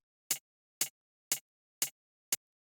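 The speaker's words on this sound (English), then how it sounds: "After that, we have the hi-hat," Five short, crisp hits of a clean, dry hi-hat sample from a deep house beat, evenly spaced about half a second apart, bright and close with no reverb tail, alone without talk.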